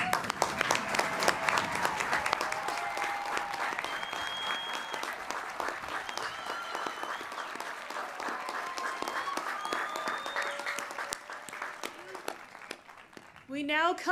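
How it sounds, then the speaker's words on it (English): A commencement audience at Westminster College applauds its new graduates, sustained dense clapping filling the hall for over ten seconds before tapering off. "Please join me in a round of applause for these new graduates."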